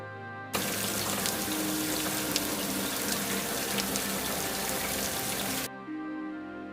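Heavy rain pours in a dense, steady hiss that begins and cuts off abruptly, loud and continuous with no voices.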